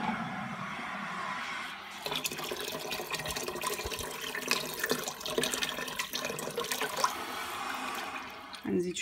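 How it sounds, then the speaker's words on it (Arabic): Water poured from a container into a pot for lentil soup, a continuous close splashing pour lasting several seconds with a brief pause partway, as a voice talks faintly alongside. "دابا درت جوج ونص، غادي نزيد جوج ونص ديال الماء"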